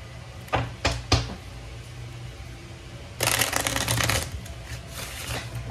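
A few sharp card snaps, then a fast riffle of slippery playing cards being shuffled up close, followed by softer handling.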